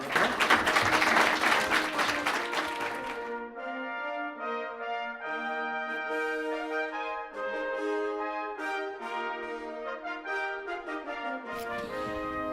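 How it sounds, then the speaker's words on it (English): An audience applauds young essay authors at a Memorial Day awards ceremony: a loud, dense burst of clapping for about three seconds, then music with sustained tones takes over. "Why don't we give them one more round of applause?"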